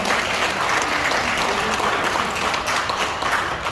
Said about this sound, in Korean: 많은 박수로 환영해 주시기 바라겠습니다.